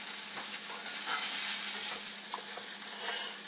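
Wild onions sizzle steadily in a hot pan for a frittata, a close, continuous frying hiss with a few soft stirring scrapes and a slight swell in the middle.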